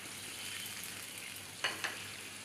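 Sugar syrup with cashews bubbles and sizzles steadily in a pan, a continuous close hiss broken near the end by two brief clinks of a utensil against the pan, with no voices.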